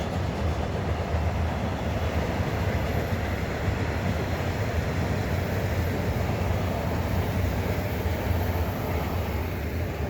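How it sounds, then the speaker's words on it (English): A train rolls past nearby, a steady, loud broadband rumble with rapid rattling wheel clatter throughout, heard alone in an outdoor setting across from homes and a church in Lynbrook. "hey, the train."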